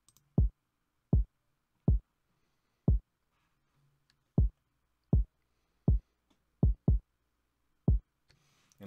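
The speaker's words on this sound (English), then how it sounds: "Our kick." A programmed kick drum from a trap beat hits alone, deep and punchy with quick decay, about a dozen hits in a loose syncopated pattern with short doubled hits near the end.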